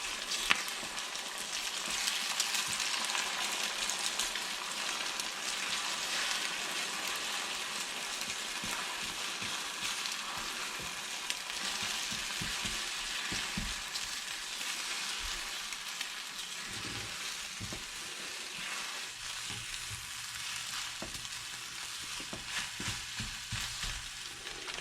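Eggs scramble in a pan on a stovetop, a soft steady sizzle with faint scraping and stirring ticks throughout, close but moderate in level, no voices.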